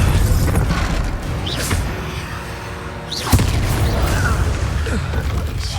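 An Expulso explosion spell in Hogwarts Legacy bursts with a sharp boom near the middle of the clip, set against a continuous loud bed of combat noise and spell effects.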